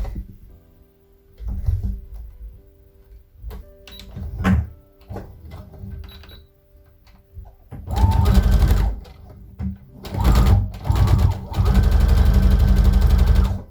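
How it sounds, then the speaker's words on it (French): Sewing machine stitching the side seam of a coat, quiet handling and clicks at first, then several loud bursts of rapid, even mechanical whirring, close up. "Donc, je vais coudre dans le côté."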